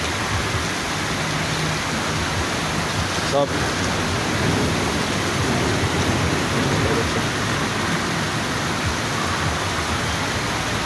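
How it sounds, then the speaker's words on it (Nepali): Heavy, unusually long rain pouring in Riyadh, a loud, continuous dense hiss filling the air, with a brief word spoken partway through. "साउदीमा पहिलेचोटि यत्रो लामो पानी परेको देखेको मैले"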